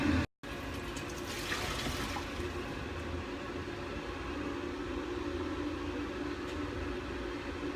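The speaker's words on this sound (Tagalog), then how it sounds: "Tatanggalan natin siya ng tubig sa steamer." Cooked spaghetti drained through a steamer for kushari, a steady wash of water running and splashing for several seconds after a brief dropout at the start, heard without talk.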